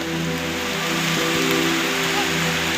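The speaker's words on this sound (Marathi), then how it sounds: "पण तो आता पाऊस पडायला लागलाय" Rain falling on farmland by a river in the forest, a steady dense hiss throughout, with a faint low hum underneath.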